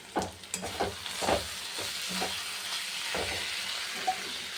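Spice paste of turmeric, salt, cumin powder and Kashmiri chili powder sizzling in a pan, with repeated scraping strokes of a spoon stirring it at an irregular rhythm over a steady soft fry, close and with no speech.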